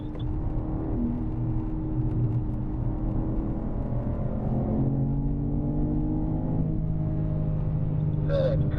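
A BMW M car accelerates on a race track, its engine note a loud, sustained drone that climbs slowly in pitch as the throttle is squeezed, with a faint brief voice near the end.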